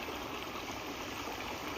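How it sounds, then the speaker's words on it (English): A small creek trickling into a quiet lake cove, steady continuous running water, close and even with no other sounds. "You've got this little creek flowing right here."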